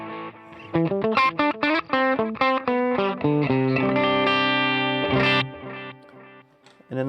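An electric guitar through a Neural Quad Cortex with overdrive plays a fast run of picked notes, then a sustained chord rings out, trailing delay repeats fading away.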